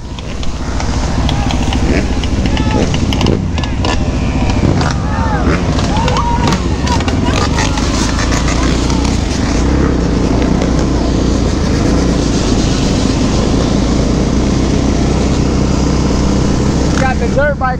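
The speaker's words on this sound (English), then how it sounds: "Got the dirt bike cops out here." Dirt bikes ridden by police pass on a street, engines droning and revving loudly for the whole stretch, heard from a moving motorcycle with wind rush and voices talking over the noise.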